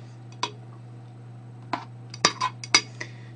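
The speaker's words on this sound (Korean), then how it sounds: "뚜껑을 닫고" A metal pot lid is handled and set down on a pot of spinach doenjang soup on a home stove. Several sharp clinks and clatters come close up over a steady low hum.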